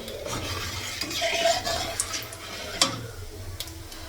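Cardamom, cinnamon and bay leaf fry softly in oil in a wok. A quiet sizzle runs under scattered metallic ticks and taps from stirring with a utensil.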